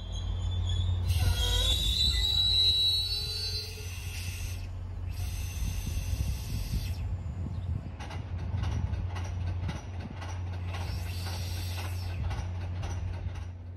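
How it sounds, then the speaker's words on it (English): A conductor cranks the handbrake in an MBTA commuter train cab car, a ratcheting mechanical clatter over a low steady hum, with a high squeal early on and no talking. "the conductor sets a handbrake in the cab car."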